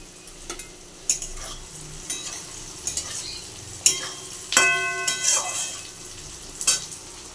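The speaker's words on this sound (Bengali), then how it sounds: "পেঁয়াজ ক্যাপসিকাম ভাজা হচ্ছে" Onion and capsicum frying in a pan for a chicken dish, a low sizzle punctuated by scattered spoon knocks and scrapes against the pan, some ringing, close and moderately loud.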